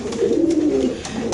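Caged racing pigeons at a pigeon sale coo in a low, rolling burst close by, with no talk over it.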